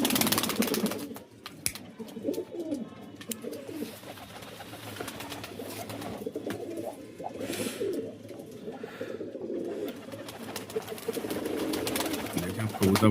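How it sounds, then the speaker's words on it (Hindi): Pigeons coo in a steady, overlapping chorus while landing on the ground after release, with wing flutters and rustling under a continuous low murmur, fairly close and moderately loud throughout. "ये कबूतर भी अब उतरना शुरू हो गए नीचे।"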